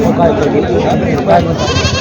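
Goats bleat in short calls at a busy weekly goat market in Vasmat, heard beneath constant loud crowd chatter and bargaining voices.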